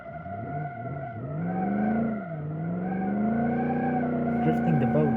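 A classic American car drifting in a video game, engine droning steadily with rising pitch as it revs, tires squealing through the slide, with someone talking over it throughout.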